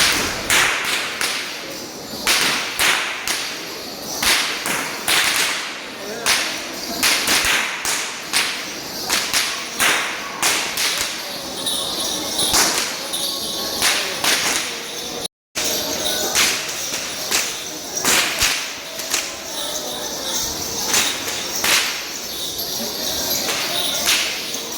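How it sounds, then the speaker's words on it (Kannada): Firecrackers crackle and pop in rapid, irregular bursts at a temple festival for Mylaralingeshwara in Ukkadagatri. The loud, sharp cracks continue steadily, with faint voices underneath. "ಒಳ್ಳೆ ಪಟಾಕಿ ಸೌಂಡ್ ಆಗುತ್ತೆ."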